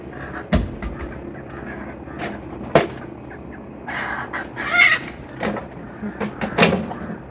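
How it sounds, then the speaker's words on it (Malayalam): Chickens squabble nearby, giving scattered clucks and squawks amid sharp knocks and rustling outdoors. "കോഴികൾ കുറേ നേരമായി കടിപിടി കൂടണം കേട്ടോ"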